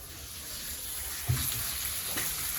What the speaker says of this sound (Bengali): এই যে এখানে হাতের মাংস রান্না হচ্ছে